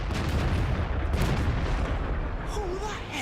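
Artillery shells are fired in a video game, a dense rumbling barrage of booms that rolls on continuously at moderate loudness, with faint voice-like chatter near the end.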